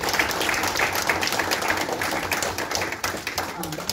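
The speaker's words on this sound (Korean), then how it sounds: "여러분들 다시 한번 큰 함성과 박수로 부탁드리겠습니다." Audience applause and cheering at a Korean election candidacy press conference for the 22nd National Assembly race in Hwaseong, a dense crowd clapping steadily and loudly throughout with voices mixed in.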